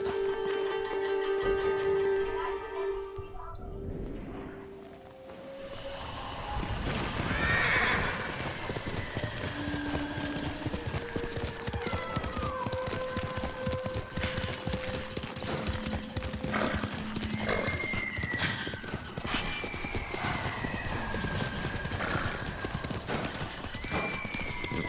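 Horse in a video game neighing with a steady clip-clop of hooves, loud and close, the hoofbeats running through nearly the whole stretch after an early whinny.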